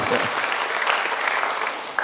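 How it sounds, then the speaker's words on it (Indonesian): Church congregation applause during a worship service, a dense burst of clapping filling the whole moment, steady and fairly loud before tapering slightly at the end. "beri tepuk tangan bagi Tuhan"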